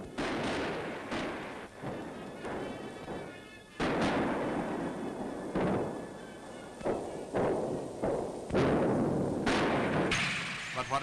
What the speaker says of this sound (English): Here at Bucine, he fought back, shelling the road as we advanced.